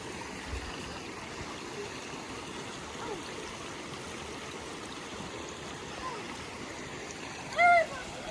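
A mountain stream flows along a hill trail, a soft, steady rushing and gurgling of water heard from nearby, with a brief louder sound near the end.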